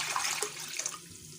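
Water poured from a glass into a cooking pan holding rice, four glasses added for sweet zarda rice; a close, steady splashing gush that thins out toward the end.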